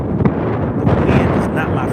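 Wind buffets the microphone while bass fishing, a loud, continuous low rumble of gusts that covers the whole moment, with a voice partly buried beneath it.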